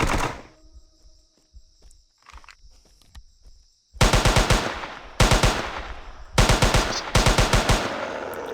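SMG gunfire in the video game Jurassic Park Hunter Legends: after a quiet stretch with faint ambient noise, four loud, rapid automatic bursts rattle off in close succession, sharp and near.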